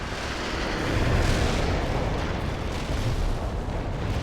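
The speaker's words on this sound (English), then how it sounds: "Launching a barrage." Heavy artillery barrage in the World in Conflict video game, a dense continuous roar of overlapping explosions and booms, loud and sustained with no pauses.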